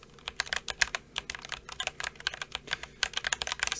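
Rapid typing on an RK89 mechanical keyboard with a soft, mushy feel, a dense run of close, crisp key clacks in an irregular rhythm with no talking.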